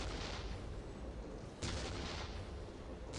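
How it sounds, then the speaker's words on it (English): Ork artillery in Warhammer 40K: Dawn of War pounds away as a dense, continuous roar of distant barrage, swelling with a sharper fresh blast midway, with no voices over it. "We will silence that Orc artillery."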